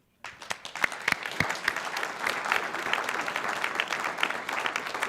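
An audience at a community history event on queer Newark breaks into applause, starting sharply and swelling into dense, lively clapping with a few louder individual claps standing out near the front.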